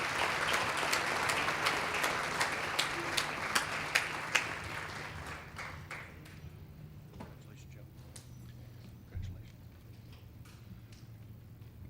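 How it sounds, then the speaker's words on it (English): An audience at a hall of fame induction ceremony applauds the track team, with clapping strong at first that thins and fades to scattered claps, while people talk faintly underneath. "So let's give them a round of applause"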